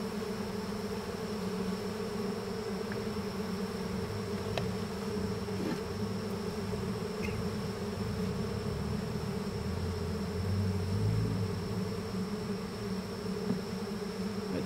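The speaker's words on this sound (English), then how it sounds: "These bees are getting loud." Honeybees in an open horizontal hive drone loudly and steadily in a dense, continuous buzz that holds evenly for the whole stretch, with no voices.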